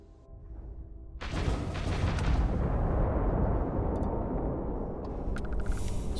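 Spaceship weapons firing in the Starfield video game: a sudden loud burst after a quiet moment, then a dense rumbling barrage of blasts and booms with sharper zaps near the end.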